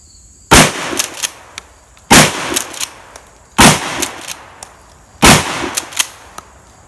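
Shotgun firing Remington low brass 7.5 shot shells, four loud separate blasts about one and a half seconds apart, each a sharp crack followed by a short echoing tail.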